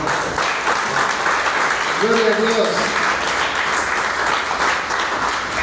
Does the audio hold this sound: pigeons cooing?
no